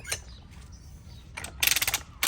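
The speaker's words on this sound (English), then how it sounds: "You just push it down. It ratchets. Listen for the clicks." A Hi-Lift off-road jack is pumped under a light, empty trailer, giving a few scattered metallic clicks and then a rapid, close run of ratcheting clicks near the end.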